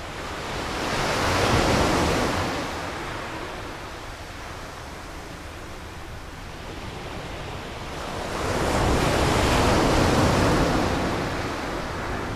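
Waves roll onto a beach on the Holderness coast at Cowden: a continuous loud wash of surf that swells twice into broad crashes and recedes between them, with wind and no talking.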